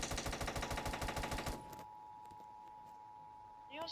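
A rapid burst of gunfire in the video game SCP rattles for about a second and a half, then cuts to a faint hum and quiet background.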